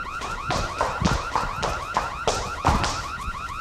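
An alarm siren blares loud and close, repeating in rapid warbling cycles roughly every half second with no voices over it.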